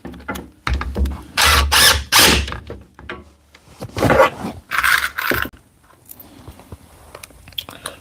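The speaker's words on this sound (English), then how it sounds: "I can drive in the rest of the screws" A power driver sends screws into a wooden bookshelf during carpentry assembly, coming as several loud whirring bursts of a second or so each, separated by short pauses, with quieter mechanical clicks near the end.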